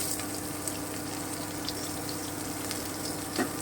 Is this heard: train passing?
no